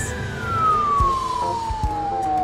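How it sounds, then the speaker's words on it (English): A mini fire engine's siren wails in one steady, loud descending tone, close by, with a low engine rumble underneath and no talking. "That is the cutest fire engine I've ever seen."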